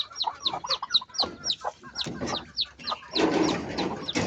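Chickens cluck in a rapid, repeated series of sharp calls at feeding time on a small farm with ducks, close and lively, with scuffling and overlapping bird sounds.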